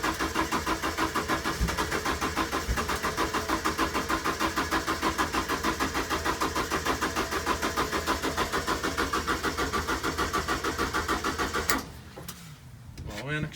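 A Ford XR2i engine runs after starting, its steady rhythmic idle pulsing loudly for about twelve seconds before cutting off abruptly into quieter background noise.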